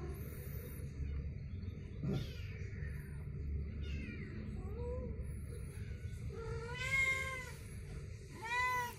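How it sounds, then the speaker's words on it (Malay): A frightened cat meows repeatedly in rising, strained cries while a monitor lizard stalks it beside a roadside drain, set against a steady low outdoor rumble. "Kucing ini sangat ketakutan guys."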